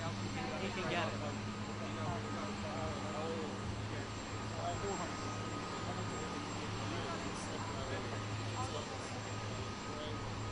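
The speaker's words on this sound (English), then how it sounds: "We have to get Nikki over there and get on the helicopter" Steady droning engine hum from a nearby helicopter fills the background during a US presidential visit to the UK, with voices talking over it.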